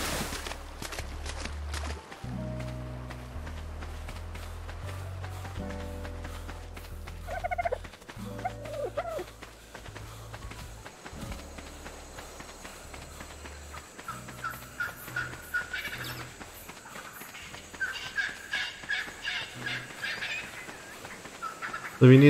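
Turkey-like gobbling birds call repeatedly in ARK: Survival Evolved, heard among steady game ambience, footsteps and music over the whole stretch, with clustered calls growing busier toward the end.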